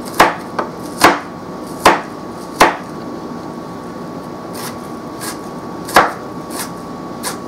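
An Aero Knife cuts through an onion on a board, giving a handful of sharp, close thuds spaced irregularly over a quiet background, some strong and a few faint, without speech.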